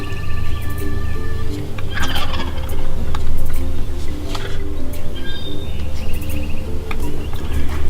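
Wild turkeys gobble repeatedly during Kentucky turkey season, loud rattling bursts close by with softer bird calls and chirps scattered between them.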